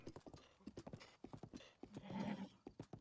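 Hooves of Misko, a horse in the video game Breath of the Wild, clip-clopping in a quick, even trotting rhythm, quiet and close, with a short snort or whinny partway through.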